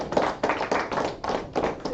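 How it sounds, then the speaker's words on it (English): A church congregation claps together at a Feast of Unleavened Bread closing service, with about six bursts of hand-clapping and cheering rising and fading in close, loud waves over two seconds. "So clap it up the Most High."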